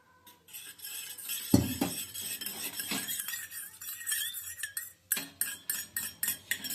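A spoon clinks and scrapes against a small bowl of cornflour and water, with a run of quick rhythmic taps toward the end as it is mixed, close and quiet.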